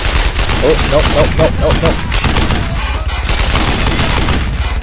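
Machine gun fire in Brothers in Arms: Earned in Blood rattles in rapid, loud bursts among booming shots throughout. Someone briefly speaks over the gunfire.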